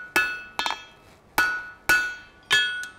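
A hammer strikes a steel tie bar on a blacksmith's bolster plate in five sharp ringing blows at an uneven pace, each clang close and loud with a short metallic decay.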